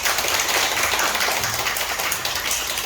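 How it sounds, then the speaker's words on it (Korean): Church congregation in a Seoul Sunday service applauding an engaged couple about to marry, a steady dense wash of many hands clapping throughout, fairly loud and continuous with no talk over it. "미리 잘 살라고 미리 박수 쳐주셨습니다"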